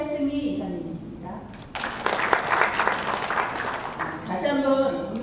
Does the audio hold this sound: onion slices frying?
no